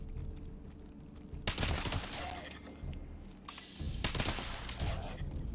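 An automatic weapon firing in the video game Fallout 76, in two loud, rapid bursts of crackling gunfire separated by a quieter gap.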